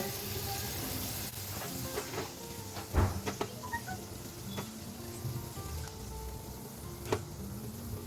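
Marinated hilsa pieces dropped one by one into boiling fish gravy, a steady close sizzle and bubbling with a few soft splashes and clinks rising from it.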